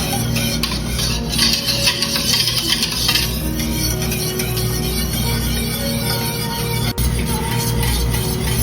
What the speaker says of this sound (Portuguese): Então aqui agora com calma eu vou mexendo e vou mostrando pra vocês